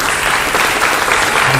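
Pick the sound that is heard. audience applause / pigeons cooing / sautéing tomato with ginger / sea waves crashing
audience applause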